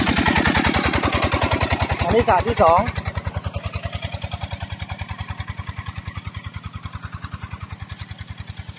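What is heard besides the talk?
engine revving, water pump engine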